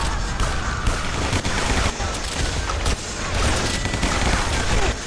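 Dense, continuous barrage of game explosions and gunfire from a rocket launcher in the shooter Guns, Gore & Cannoli, loud and busy with overlapping blasts, crashes and rattling impacts throughout, with no clear pauses.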